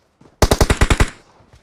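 An M4 rifle in PUBG Mobile fires a rapid burst of about seven loud, close shots, followed by a short fading tail.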